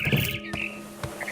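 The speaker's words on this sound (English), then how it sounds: "Then I heard chirping outside my window. It was a barn swallow going back to her nest." Barn swallow chirping in the video game What Remains of Edith Finch: short bright tweets cluster at the start, with a few faint chirps returning near the end over a quiet ambient hum.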